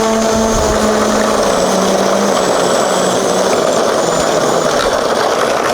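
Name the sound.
coaxial RC aircraft motors at full throttle in a test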